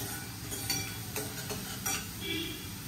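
Potatoes for aloo bhuna shallow-fry in a pan with a soft, steady sizzle, broken by a few close scraping stirs, quiet and without talk.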